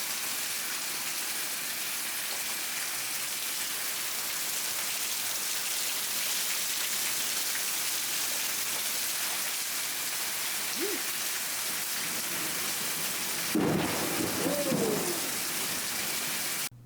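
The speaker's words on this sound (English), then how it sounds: "We got ourselves here Southern Summer Rain." Steady southern summer rain falls in Florida, a dense continuous hiss throughout, with a few faint bird calls and a brief low rumble near the end.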